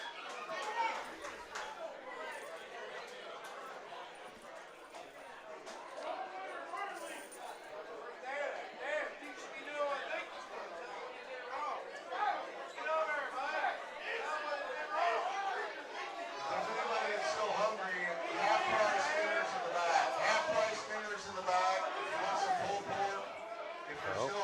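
Lively indoor crowd chatter at an APA pool match, a steady babble of many voices that swells louder toward the end, with some children's voices mixed in.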